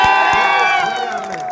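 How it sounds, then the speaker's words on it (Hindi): At a Hindi-language political rally, a crowd cheers and shouts in a loud, dense mass, with claps mixed in. Voices rise over the din throughout. "जिस तरह से आप लोग बजाए हैं ताली"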